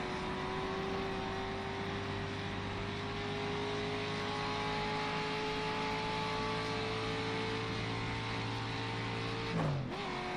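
A racing car engine in a video game set in 1954 holds a steady high drone with a sustained revving tone, loud and continuous, then drops sharply near the end as the revs fall.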